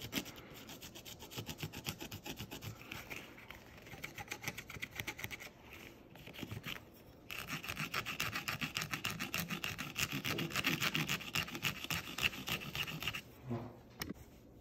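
Fast, steady rubbing scratches of sandpaper on a latex clothing repair patch, a close rhythmic grit sound with a brief pause partway through and no talk.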